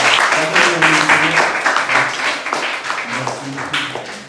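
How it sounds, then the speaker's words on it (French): Church congregation claps in welcome, a dense round of applause heard close with a voice speaking and tones sounding over the clapping. "On peut applaudir encore une fois pour nous"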